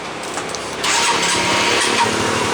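A Honda CBR150 motorcycle fitted with an anti-theft alarm system starts up: a brief quiet click and whir, then the engine catches and settles into a loud, steady idle close by.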